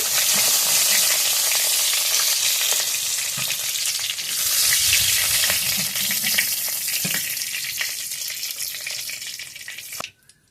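Unpeeled pointed gourd (potol) fries in hot oil, a loud dense sizzle that holds steady with occasional stirring clicks, then fades and cuts off near the end.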